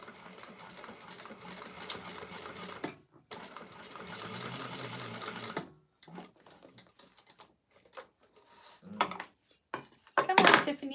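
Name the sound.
sewing machine stitching a clutch wallet interior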